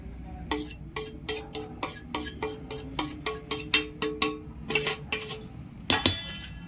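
Ground spice paste being mixed in a metal pot for Khandeshi funke, a rapid series of close, bright spoon clinks and scrapes against the pot in an uneven rhythm.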